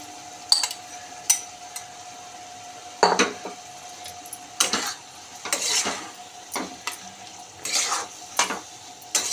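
Tomato curry is stirred in a pot, with repeated scraping clinks of a spoon against the metal at irregular intervals over a steady low kitchen hiss.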